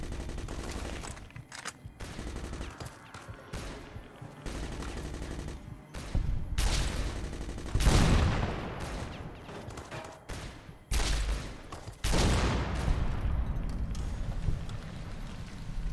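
Turret gunfire in Fallout: New Vegas, bursts of shots and blasts recurring through the stretch, loud and close, with rumbling impacts between volleys and no talk.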